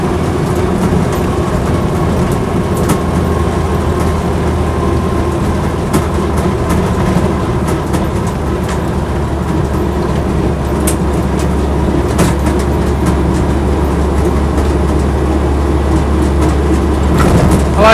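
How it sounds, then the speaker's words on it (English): A Land Rover Series III 88in soft-top under full-throttle acceleration, a loud, steady engine drone with a deep low hum and road rumble, heard from inside with no talk. "Full throttle acceleration, so it's not pinking or making any hesitancy at all"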